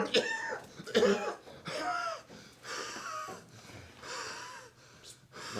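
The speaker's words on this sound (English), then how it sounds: "it sounds like you're coughing a lot" A man coughs repeatedly in a clinic exam room, with harsh, wheezy bursts and gasping breaths between them, heard up close.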